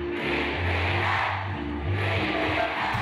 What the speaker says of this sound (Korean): BBM을 연호하는 시민들의 함성이 이어지고 있습니다